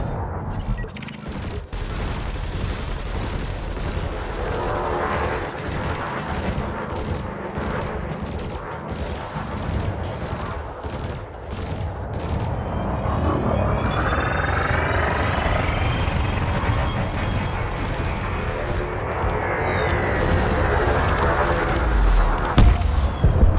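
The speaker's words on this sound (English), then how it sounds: "You may have noticed that multi-cannons are effective against unshielded targets." Multi-cannons in the space game Elite Dangerous fire at a drone target in rapid, loud bursts of crackling shots with heavy booming thumps, running almost continuously for over twenty seconds and growing denser toward the end.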